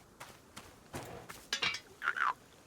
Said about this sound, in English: I love that it makes a little frog sound when it's out of water